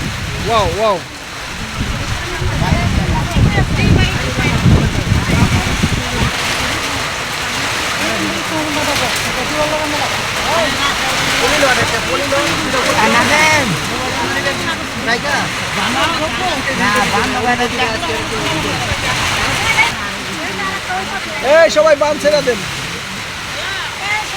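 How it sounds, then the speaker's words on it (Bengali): Sudden heavy rain pours down around a small tea stall where a crowd has taken shelter, a dense steady hiss of falling water running throughout beneath lively chatter from many people. "প্রচুর হঠাৎ বৃষ্টিটা নেমে গেল হঠাৎ"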